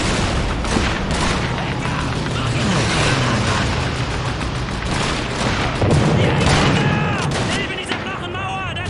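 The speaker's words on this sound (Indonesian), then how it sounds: "Siapa yang nembakin kita, Cuk?" Dense gunfire and explosions from the World War II shooter Call of Duty 2, with rapid overlapping shots, booms and crashes filling the whole stretch, loud and continuous under occasional voices.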